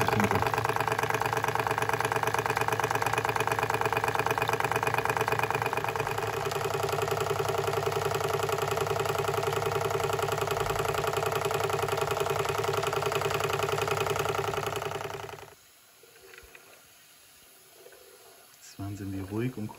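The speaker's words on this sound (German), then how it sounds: "Und schon läuft die Speisepumpe." A Märklin 16051 model steam engine runs steadily with its feed pump working, a dense continuous mechanical chugging and hiss that cuts off sharply near the end, leaving faint room sound and small clicks.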